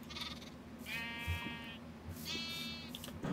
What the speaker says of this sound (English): 1, 2, 3, 4, 5, 6, 7 sheep